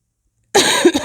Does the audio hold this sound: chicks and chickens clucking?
no